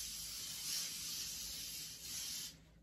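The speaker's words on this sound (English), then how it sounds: "And then we're just gonna spray it." Spray bottle misting cleaner onto bedding in a home, two long hissing bursts close by with no talking, the second ending sharply.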